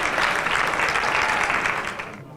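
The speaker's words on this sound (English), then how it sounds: "Give yourselves a massive round of applause" Audience applause at a charity gala dinner, a dense, even wash of clapping that holds steady for about two seconds and then tapers off quickly.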